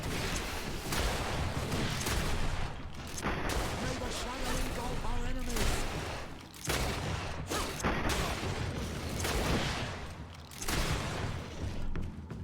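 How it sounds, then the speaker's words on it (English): Gunfire in the fantasy RPG GreedFall, several loud sharp shots and bursts recurring across the scene over dense game sound and a talking voice. "I think I might need to shoot this one."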